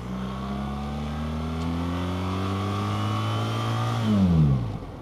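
A BMW R 1300 GS motorcycle engine pulls smoothly while riding, a steady droning note that climbs gradually, then swells louder before dropping away sharply near the end, with no talking.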